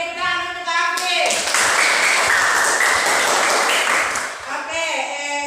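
Classroom applause for a student named Afif: a burst of many hands clapping rises after a teacher's voice, holds for a few seconds, then gives way to speech again.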